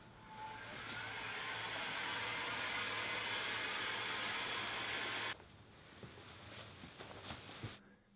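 A heat gun blows steadily and loudly while flashing solvents off a freshly sprayed Duracoat aerosol tigerstripe finish on a Mosin Nagant rifle, then shuts off around five seconds in, leaving quieter handling noises and a few knocks.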